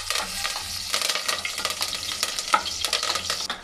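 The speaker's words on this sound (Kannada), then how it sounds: "ಅರ್ಧ ಚಮಚ ಆಗುವಷ್ಟು ಜೀರಿಗೆ ಹಾಕ್ಕೊಳ್ತಾ ಇದ್ದೀನಿ. ಸ್ವಲ್ಪ ಕರಿಬೇವು ಸೊಪ್ಪು ಹಾಕ್ಕೊಳ್ತಾ ಇದ್ದೀನಿ ಒಗ್ಗರಣೆಗೆ" Cumin seeds and curry leaves crackle in hot oil for a tempering, a dense, steady sizzle close by, broken by stirring clatter and a sharper pop now and then.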